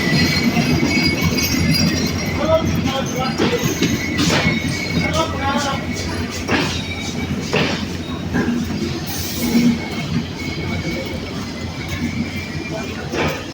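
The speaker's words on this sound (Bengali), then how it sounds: "আমাদের সুন্দরবন এক্সপ্রেস ট্রেন রাজবাড়িতে প্রবেশ করলো" At night the Sundarban Express rolls into Rajbari station with a steady rumble of wheels, metallic clinks and clatter from the cars, while people talk close by over the noise.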